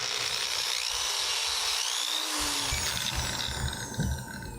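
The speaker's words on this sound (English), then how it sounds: "We're going to drill a hole in it right there." A power drill whines steadily as it bores into a plastic pen part, pitch shifting slightly as it works, close and continuous with no talking.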